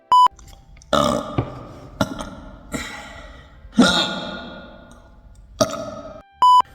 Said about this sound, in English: You better skip 30 seconds if you don't want to see me burp.